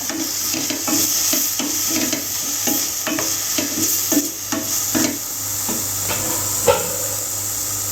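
Bitter gourd sizzles and crackles in a hot pan while a spatula repeatedly scrapes and stirs it in an uneven rhythm.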